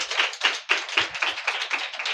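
A church congregation claps quickly in a steady, even rhythm during a sermon, the claps blending into a bright, continuous patter at moderate volume.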